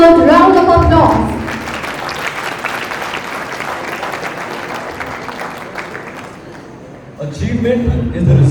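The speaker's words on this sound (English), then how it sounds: "Let's give our performers another well-deserved round of applause." A ceremony audience applauds performers with loud, dense clapping that lasts several seconds and fades slightly, with a speaker's voice before and after.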